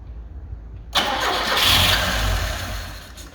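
A vehicle engine cranks and catches after a short quiet lead-in, then runs roughly for a few seconds at a loud, close level before faltering.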